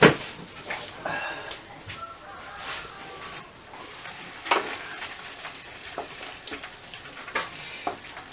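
Chicken livers fry under a lid in a pan, a continuous muffled sizzle broken by scattered pops and crackles, with a dog whimpering faintly in the background.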